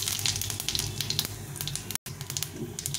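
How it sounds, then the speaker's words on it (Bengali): Dried chillies and cumin seeds sizzle steadily in hot oil in a home kitchen, a close, crackling fry that runs throughout with only a momentary break. "তেলটা গরম হয়ে গেছে, শুকনো লঙ্কা আর জিরে দিলাম।"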